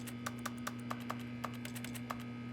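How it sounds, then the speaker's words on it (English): Keyboard-like clicks accompany interactions in the video game The Stanley Parable, about a dozen crisp, irregular taps over a steady low hum, with no voices. "Every interaction I use sounds like a keyboard."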